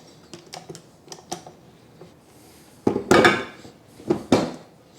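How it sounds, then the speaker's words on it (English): Dough hook attached to a stand mixer: a series of light metallic clicks and taps, then a few louder clunks as the hook seats into place, close and without speech. "Now we can attach the dough hook."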